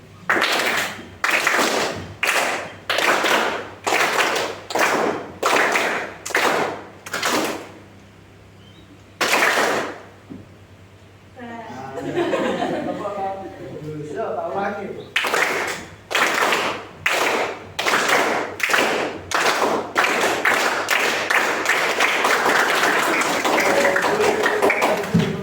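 A classroom of students clapping hands in unison as an ear-touching exercise, sharp rhythmic group claps in sets with brief pauses, a short stretch of murmured chatter in the middle, then the clapping resumes.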